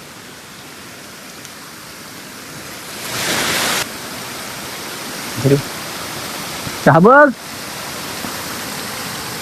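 A waterfall at a dam at night during heavy rain gives a steady, broad rushing roar throughout. A brief louder burst of noise comes partway through, and voices speak briefly over it.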